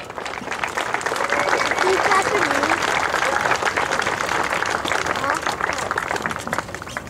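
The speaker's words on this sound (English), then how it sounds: "I'd like a nice round of applause for Captain Matthews." Sustained loud applause from a large crowd, dense clapping that fills the whole stretch with a few voices cheering within it.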